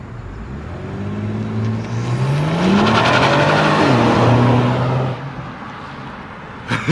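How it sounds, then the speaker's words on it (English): A Kia Stinger makes a launch control start, its engine note rising sharply through the gears as it pulls away, loud and close at first and then fading off into the distance. "But we're gonna do launch control, and then I'm gonna put them in the car for a launch control."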